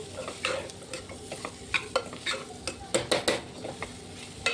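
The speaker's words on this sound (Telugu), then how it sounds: "బాగా కలుపుకోవాలండి, పచ్చిమిర్చి కారం మొత్తం పట్టేటట్టు." Ivy gourd curry with green chili being stirred in a pan, a spoon scraping and clinking against the metal in an irregular rhythm over a steady low sizzle of frying, close and alone.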